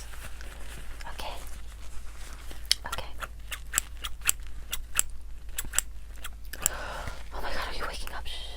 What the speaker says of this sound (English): I need a couple hair samples. So let me get my scissors.